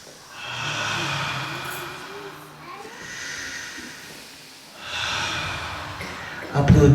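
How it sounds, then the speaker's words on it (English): Slow, deep breaths during a guided Art of Living breathing session rise and fall as three long airy inhales and exhales, close and breathy, each swelling then fading, with a sudden low rustle at the end. "પાછો ઊંડો શ્વાસ લ્યો અને છોડો."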